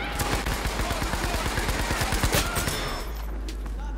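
Rapid bursts of automatic gunfire crackle in the Battlefield 3 video game, dense shots for about three seconds before falling quiet, with a player's voice mixed in.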